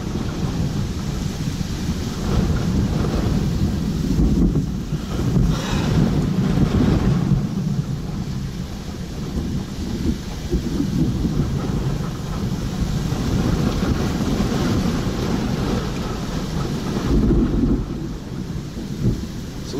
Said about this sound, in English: Good storm here.